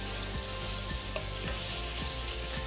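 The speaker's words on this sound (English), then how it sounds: "We're going to flip the shrimp." Shrimp cooking in a pan give off a dense, constant sizzle with faint soft ticks and pops, close and unbroken by any voice.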